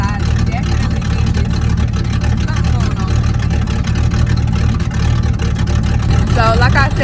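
Idling V8 engine of a 1985 T-top Ford Mustang with an aftermarket cam and Performer intake, a loud steady low rumble heard from behind the car, with a person talking over it.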